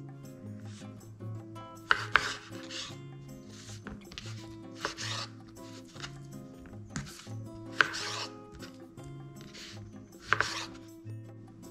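A Marco Almond kitchen knife slicing food on a board, with a series of soft, rasping cuts and light taps every couple of seconds, close and quiet under soft background music.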